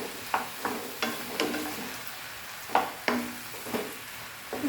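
Okra being stir-fried on a high flame in oil, with a soft sizzle under a series of sharp utensil scrapes and clacks against the pan at irregular intervals, close and moderately loud.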